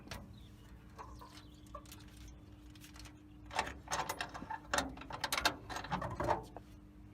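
The front bonnet of a 1983–2014 Maruti Suzuki 800 SS80 petrol car being opened gives a run of close clicks, rattles and clunks, busiest in the second half, over a steady low hum.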